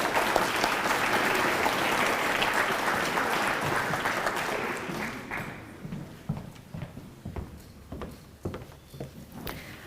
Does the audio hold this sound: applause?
yes